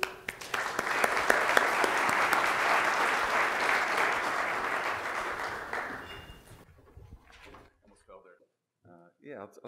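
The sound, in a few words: audience applause welcoming a conference speaker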